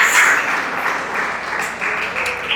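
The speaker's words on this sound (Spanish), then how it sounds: "Denle un aplauso para Cristo." A church congregation applauds for Christ, a dense sustained round of clapping from the whole room, loud and continuous without a break.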